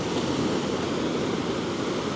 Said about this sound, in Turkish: Sri Lanka'nın dalgaları çok çok çok sert